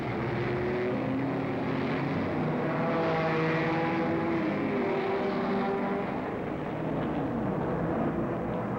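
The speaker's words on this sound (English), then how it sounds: "The Turbine figured to be a slow starter as Dr. Dick Thompson slowly winds up the jet in an effort to make his blast off." A jet turbine race car at the 1968 Sebring race, driven by Dr. Dick Thompson, spools up with a loud, steady droning whine and shifting tonal hum, continuous and close throughout with no voices.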